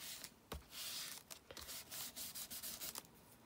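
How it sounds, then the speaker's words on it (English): A cloth wiped across a desk surface while clearing it, giving soft repeated rubbing strokes with brief louder swipes, close and steady with no talk. "I wipe again."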